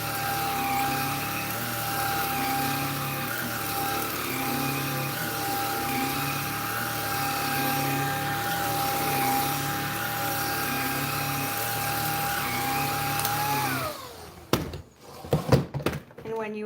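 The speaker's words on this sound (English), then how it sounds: "Start the vacuum." A household vacuum cleaner drones steadily at close range, a constant motor whine with broadband airflow hiss, then winds down near the end into thumps and knocks, with puppies nearby and a few faint voices underneath.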